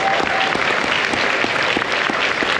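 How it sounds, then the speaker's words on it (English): A large audience claps steadily for the judges at a business competition event at the Sheraton Waikiki, dense close applause filling the whole moment with no voices. "a rousing round of applause for the judges"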